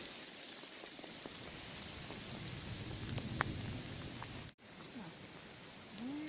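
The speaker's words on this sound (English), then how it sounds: "It started raining and hailing." Steady rain and hail pelting down in Rocky Mountain National Park, a dense hiss of drops and icy patter close by, with a brief dropout and a few faint rustles.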